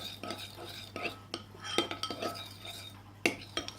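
A utensil stirs thick slime glue thinned with water in a bowl, producing irregular soft clinks and scrapes in quick bursts, fairly close and quiet, without talking.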